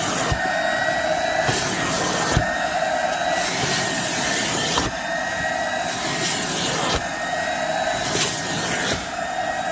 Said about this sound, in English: This vacuum on this unit is just a little better than what you're seeing out of a vac